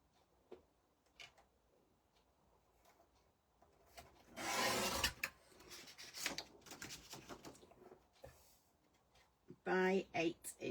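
Paper trimmed by a quarter inch along one side for a Field Notes folio, soft cutting and rubbing strokes with a louder burst of rasping near the middle and at the end, under quiet talk.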